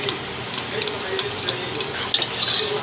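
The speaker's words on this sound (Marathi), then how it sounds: "चांगलं तेलामध्ये परतायचं. काजू, टमाटा आणि कोथिंबीरची पेस्ट आहे." A paste of cashew, tomato and coriander fries in hot oil for a chicken gravy, giving a steady close sizzle with spoon scraping and stirring against the pan throughout, no voices.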